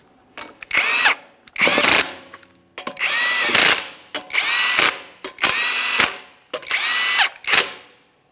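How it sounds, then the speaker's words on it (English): Pneumatic impact wrench running lug nuts onto a Jeep Grand Cherokee wheel, firing in six loud, close bursts of whirring, ratcheting hammering, each about a second long and separated by short pauses. "Once you've started on the lug nuts, go ahead and snug them up."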